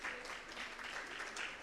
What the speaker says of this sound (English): Please, a round of applause for Dr. Henrietta.